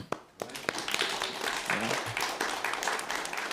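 A congregation at a church service gives a round of hand clapping, dense steady applause from the room with a few sharp individual claps near the start, moderately loud and with no voices over it.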